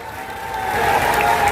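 Applause from a political rally crowd swells to a dense, loud clatter of many hands in an open gathering, rising slightly over the short stretch.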